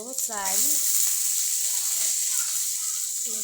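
Rice for pulao is added to a hot pot and sizzles, a loud, steady hiss that rises after a brief spoken word and holds evenly throughout, with speech at the start and end.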